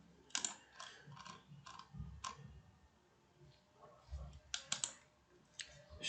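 Quick bursts of keystrokes on a computer keyboard, clustered taps with short pauses between runs, close and fairly quiet with no voices.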